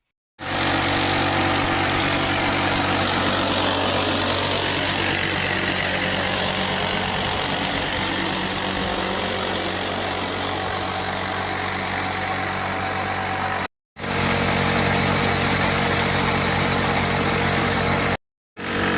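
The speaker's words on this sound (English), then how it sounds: "I'm gonna grease the machine and run as much as possible." Loud, continuous engine drone from a gold mining wash plant running outdoors, a steady rumbling hum broken only by two brief cuts.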